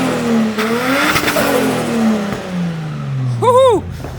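A turbocharged Toyota Mark II GX100 pulls away on a test drive at low RPM and light throttle, its engine note rising and falling loudly, ending with a quick rev sweep near the end.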